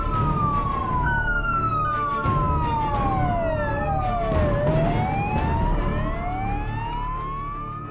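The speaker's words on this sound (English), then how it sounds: "Sergeant Jacinda Panowitz was in the first police car to arrive on the scene." Police car sirens wail and sweep up and down, loud and close, answering a house fire on Slacks Creek streets, with two overlapping siren tones and a rumble of traffic beneath them.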